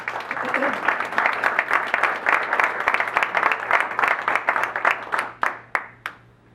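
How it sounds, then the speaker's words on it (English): A crowd at a diversity and inclusion round table applauds steadily for several seconds, dense clapping that thins into a few last scattered claps before fading out. "Please put your hands together and welcome Tyler Conaway from PayPal."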